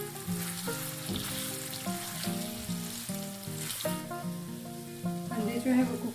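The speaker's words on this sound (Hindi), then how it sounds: "3 फेंटे हुए अंडे हैं वो ऐड करेंगे। फ्लेम को आपने मीडियम ही रखना है।" Three beaten eggs sizzle steadily in a pan over a medium flame while being stirred, with a continuous close frying hiss and faint scraping; music plays throughout.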